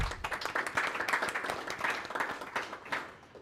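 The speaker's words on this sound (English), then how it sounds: "If we could have a brief round of applause for them." A small group at a village board meeting gives a brief round of applause, with fairly distinct individual claps in an uneven, pulsing rhythm, close and moderately loud.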